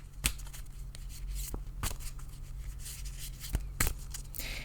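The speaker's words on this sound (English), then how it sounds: "I'm going to shuffle a little bit until Spirit says to stop" Tarot cards being shuffled by hand, a steady run of soft papery riffles and sharp taps close by, with several louder snaps spread through the stretch and no talking.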